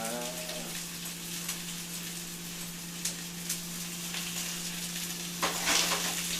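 Ingredients for a short rib stir fry sizzle and caramelize in a pan, a soft continuous crackling fry with scattered pops and a steady low hum beneath, fairly quiet overall.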